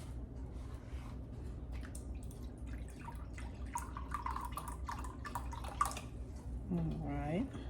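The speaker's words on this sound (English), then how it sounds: "I'm going to go ahead and add in the other 3/4 cup of broth." Chicken broth pours into a pot pie filling in a home kitchen, a soft wet trickle and drip running steadily under nearby talk, with a brief louder splash toward the end.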